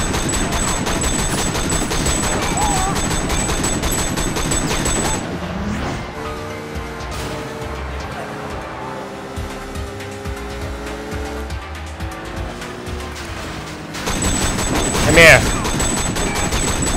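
Gunfire from the video game Sleeping Dogs: dense, loud bursts of shots with vehicle noise open and close the stretch, and a quieter middle section with a voice speaking.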